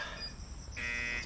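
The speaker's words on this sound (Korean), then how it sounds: "경고음이 울리고 있어요" An electronic warning beeper in a farm greenhouse, set off when the inside temperature climbs past its limit, a shrill, sustained buzzing tone that shifts pitch partway through, heard alone at moderate distance.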